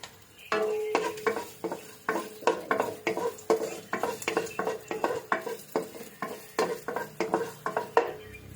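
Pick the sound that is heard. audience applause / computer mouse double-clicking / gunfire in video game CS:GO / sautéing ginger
sautéing ginger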